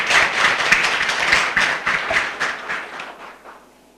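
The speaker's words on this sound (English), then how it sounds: "please give a big clap for them." An audience at a faculty orientation programme claps steadily, a dense, moderately loud patter that carries on for several seconds before thinning out and fading away.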